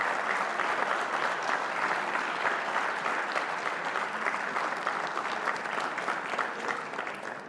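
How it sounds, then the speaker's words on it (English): Crowd at a Tamil Nadu Premier League cricket event breaks into sustained, dense applause that holds at an even, loud level for the whole stretch, with no talk over it. "big round of applause for"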